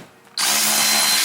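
A power drill spins up abruptly and whines steadily at close range while backing out 10mm screws from a 350Z/G35 door panel.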